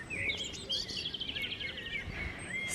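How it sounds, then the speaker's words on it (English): Birdsong in a kitchen garden: a bird's rapid, high chirping trills run through the moment, moderately close over quiet outdoor background. "And lots of birdsong down here in the kitchen garden."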